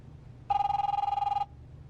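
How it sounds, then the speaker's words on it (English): A telephone in a video game rings with a steady electronic trill, one burst lasting about a second, loud and clear over a quiet low hum. "that Zach Morris phone"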